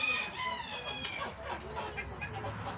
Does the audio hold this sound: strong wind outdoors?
no